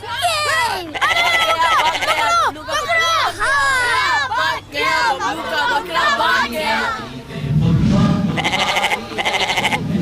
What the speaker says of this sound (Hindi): ये देखो बकरों की लड़ाई हो रही है